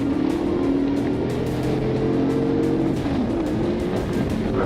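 A Dodge speeding recklessly down Martin Luther King Jr. Drive during a police chase, a loud steady engine roar with rushing road and tire noise throughout.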